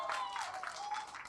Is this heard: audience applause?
yes